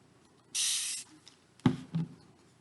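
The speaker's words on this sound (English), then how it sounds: "Give one good water spray." A handheld water spray bottle gives one sharp hissing spray burst close by, followed by a couple of soft clicks and handling knocks.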